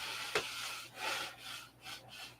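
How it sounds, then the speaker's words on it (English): Sandpaper rubs over a wooden model aircraft fuselage to take off dried glue: a few close, soft, rhythmic back-and-forth strokes, with no talking. "we'll keep sanding up here until this is gone"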